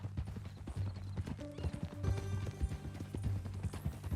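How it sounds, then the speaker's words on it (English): Clopping horse hooves trot steadily alongside a loud whinny in the video game Red Dead Redemption 2, with a low musical backdrop underneath; no talking. "That new horse?"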